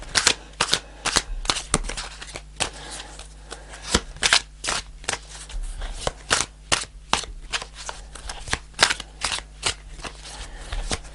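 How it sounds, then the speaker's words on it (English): Tarot cards are shuffled close by, giving a steady run of crisp riffling slaps and snaps repeating irregularly throughout, with no talk. "I'm going to pull one more card."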